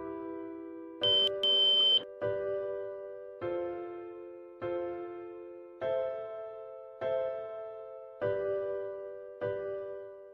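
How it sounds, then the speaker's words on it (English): A Samsung biometric fingerprint digital door lock sounds a short two-tone chime, then a run of evenly spaced electronic beeps, each a clear tone that decays, roughly one per second, close and isolated. "There will be a long beep and the LED will blink green for 1 second."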